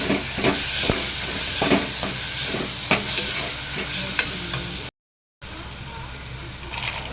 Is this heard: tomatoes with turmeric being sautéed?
yes